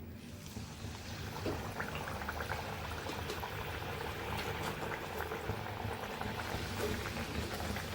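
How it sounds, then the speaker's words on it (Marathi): Kombdi vada dough rounds sizzle steadily in hot oil, a dense, continuous bubbling fry that holds at an even, close level with no voices. "आता आपण त्याच्यात वडा सोडूया."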